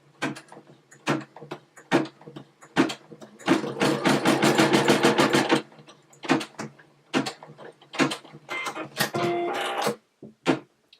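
A Brother SE625 embroidery machine stitching on a repositionable hoop, a rapid buzzing needle run in several bursts of varying length, separated by short clicks and pauses, close and clear.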